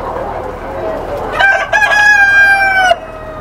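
A rooster crows loudly and clearly on a Lohmann parent-stock poultry farm, one long drawn-out call over a low background murmur of the flock.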